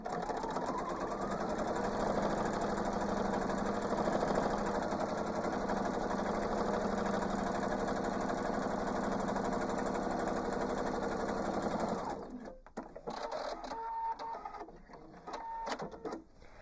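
A sewing machine runs steadily as improv-quilt fabric pieces are stitched together, a continuous close mechanical whir for about twelve seconds before it stops, leaving quieter handling noises.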